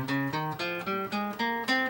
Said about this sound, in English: The next mode is called Phrygian,